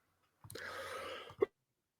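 A single close cough: a short rough throat sound ending in one sharp, abrupt burst, then silence.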